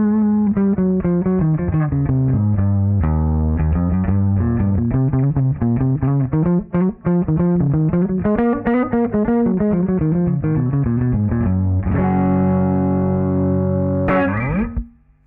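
A guitar runs through a Soundtoys bottom fuzz effect, playing a continuous, heavily fuzzed and saturated riff of bass-heavy notes. It ends on a sustained ringing chord, then a brief squeal before cutting off.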